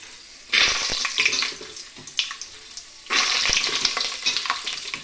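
Peanuts dropped into hot oil in a pan, with loud bursts of sizzling and frying that swell, fade and swell again, close up with no talking.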